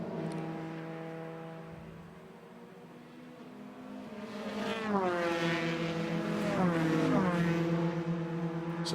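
Formula 3 race cars of the 2013 FIA F3 European Championship scream past on the final lap at the Nürburgring. Engine whines grow louder, then drop sharply in pitch as each car sweeps by, over a broad roar.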